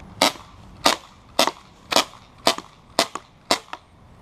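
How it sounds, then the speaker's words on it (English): A 1911-style BB pistol fires about eight sharp, snappy shots in quick succession, roughly two per second, each with a short echo, loud and close with no talking. "I can fire 14 shots real quick."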